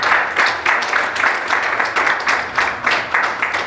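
Close audience applause at a legal and policy conference in Nigeria, with a loose, pulsing rhythm of claps, fairly loud and continuous throughout.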